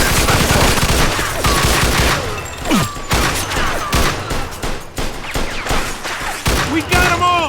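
Loud, dense gunfire from a shootout in Mafia 2 Definitive Edition, overlapping rapid bursts and booms crowding the whole stretch, with shouted voices mixed into the chaos.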